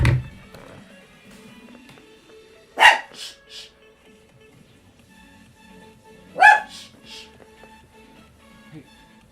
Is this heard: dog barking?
yes